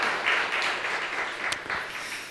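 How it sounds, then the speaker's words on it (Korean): A church congregation applauds to celebrate a wedding, a steady wash of many hands clapping together at moderate volume from start to finish. "결혼식 축하하고 또 축복하는 의미로 박수하겠습니다."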